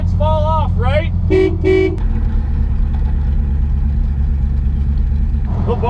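A Corvette horn gives two short honks, heard over steady engine and road rumble while driving to a car show; voices are briefly heard near the start.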